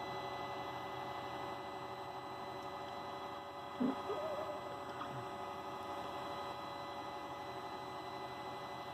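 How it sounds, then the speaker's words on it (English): A Creality Ender 3 3D printer with its hot end at 220 degrees hums faintly and steadily, then a few short motor whirs and clicks sound as it starts its first print. "our printer should kick on any second."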